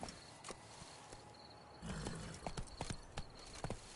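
Horse hooves clip-clop at a riding pace in The Witcher 3, a steady run of sharp thuds over game ambience and faint animal noises.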